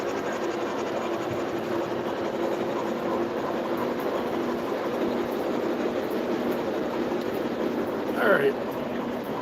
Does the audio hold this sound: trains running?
yes